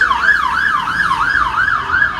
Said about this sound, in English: Lots of sirens all the time.